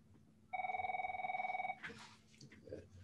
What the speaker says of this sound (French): Excusez-moi, j'ai un téléphone.